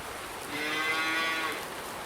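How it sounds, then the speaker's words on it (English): A cow moos in the Farming Simulator 19 video game, a single drawn-out low call swelling and fading over about a second, close and clear above a faint steady hiss. "we have our cows"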